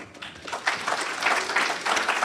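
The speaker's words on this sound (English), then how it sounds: "We applaud you." Applause at a Kiwanis club meeting, a short, moderately loud burst of clapping from a room of people that builds slightly and holds steady.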